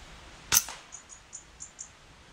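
A single shot from an FX Dreamline air rifle in open woodland, a sharp close crack followed by a short run of faint, evenly spaced ticking sounds.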